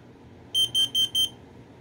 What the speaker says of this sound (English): This one's also combo as well, smoke and carbon monoxide.